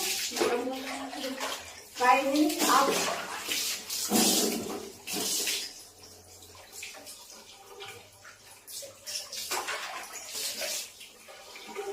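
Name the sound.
water being mixed and poured for a bath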